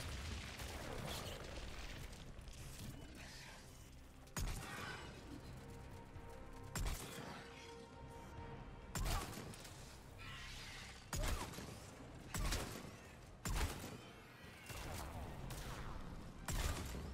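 Weapons fire in the video game Mass Effect 3 in repeated heavy bursts and booming shots at irregular intervals over a constant rumbling background, with a player talking intermittently beneath the gunfire.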